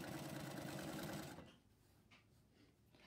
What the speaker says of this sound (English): the left hand should be right here, guiding it so that you get that really nice, great top stitching